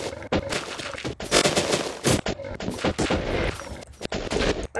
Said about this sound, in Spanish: ¡Oh, vamos a lanzar granadas!